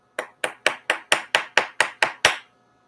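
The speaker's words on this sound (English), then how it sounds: "You can hit these with a hammer." A hammer strikes a hard demo model about ten times in a steady, quick rhythm, each sharp close knock ringing briefly before the next, then stopping.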